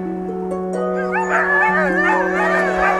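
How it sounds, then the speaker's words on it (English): Huskies at a dog sled race bark, yip and whine excitedly over a steady droning hum, several dogs overlapping close by in a continuous chorus. "right now, it's full of huskies, all here for the dog sledding event"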